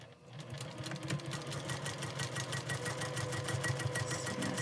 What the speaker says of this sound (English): So I'm going to sew 1/4 inch away.